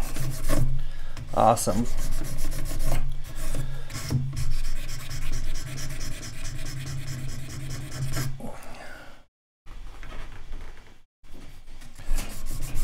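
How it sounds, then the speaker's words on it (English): Hand sanding and filing of a wooden piece, steady rasping and rubbing strokes repeating closely and loudly through most of the span, with brief pauses and a short spoken word near the start. "Let's keep sanding, filing away."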